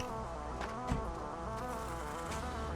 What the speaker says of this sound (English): Oh no, bees!